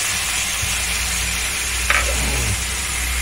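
Onions and tomatoes fry together in a kadai for a keema and red pea curry, giving a steady close sizzle with a few scraping stirs of a spoon against the pan and no talking.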